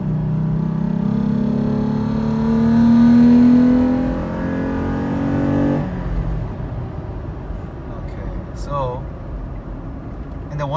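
A Toyota engine fitted with a TRD air filter revs up in a steady, loud drone that rises and swells, then drops abruptly as the gas is released and settles into a quieter idle. A brief voice comes in near the end.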